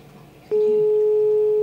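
A single steady electronic tone starts suddenly and holds loud and unbroken over faint background noise, like a telephone line tone.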